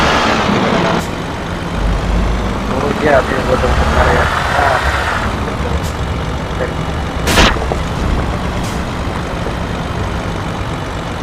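Rusty, abandoned Leyland lorry in a restoration video game, its engine idling at a steady low rumble with a couple of sharp clanks, while someone talks over it.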